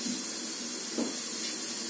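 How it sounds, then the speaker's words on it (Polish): Faworki pastries fry in hot oil, a faint, steady sizzle and hiss with a soft bubbling burst near the middle and no talk. "możemy wrzucać faworki do faworków. Będziemy potrzebować taki patyczek, będziemy je obracać. One się bardzo szybko"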